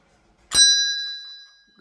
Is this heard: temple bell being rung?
yes